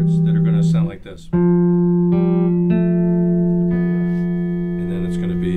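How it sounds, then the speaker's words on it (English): An electric guitar playing arpeggiated chords through an amplifier, sustained ringing notes picked one after another with a short break near the start, played alone at close range. "sort of arpeggiated chords that are going to sound like this."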